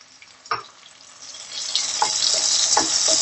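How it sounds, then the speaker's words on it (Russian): Onion, ginger, chili and tomatoes fry on high heat, a close, steady sizzle that builds and swells, with a few sharp scrapes and stirs over it and no voices. "Сейчас можно это все обжаривать на большом огне."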